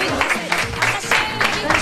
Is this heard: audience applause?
yes